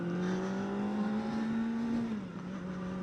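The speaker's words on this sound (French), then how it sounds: "J'adore la sonorité du moteur." Kawasaki ZX-4RR 2024 motorcycle engine revving steadily with a loud, high-pitched inline-four drone that holds a constant pitch, then drops slightly near the end. Close and continuous, with no talking.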